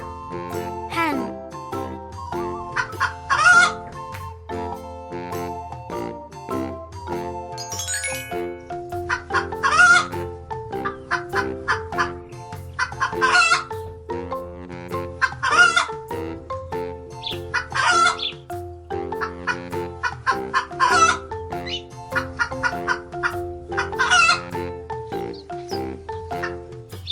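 A hen on a farm clucks repeatedly and lets out crow-like calls, loud and close, over a busy musical backing that runs throughout, with the bird's calls rising at regular intervals.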